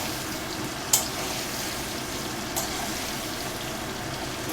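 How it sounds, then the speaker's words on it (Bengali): Potatoes frying in a pan until light reddish brown for a bhetki fish dish, a steady soft sizzle with a couple of faint clicks, close and continuous with no talking. "আলুটা হালকা লালচে বাদামি কালারের মতো করে ভেজে নেব একটু"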